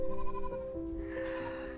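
Goats on a farm in winter bleating during evening chores, a steady, fairly faint wavering bleat with tonal harmonics, another call rising near the end, over low background noise.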